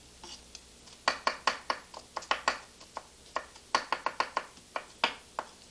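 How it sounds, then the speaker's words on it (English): A chef's knife chops quickly through a small onion on a board, slicing it thin: a fast, steady run of crisp close knocks, about twenty strokes in brief bursts, with nobody talking. "into thin slices, and then with your chef's knife, and it's very fast"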